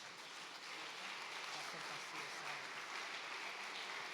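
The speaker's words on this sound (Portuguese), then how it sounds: "Vamos aplaudir ao Senhor, irmãos." Congregation clapping together during a family worship service at a Pentecostal church, a steady dense wash of applause held at even loudness for the whole stretch, with no voices standing out.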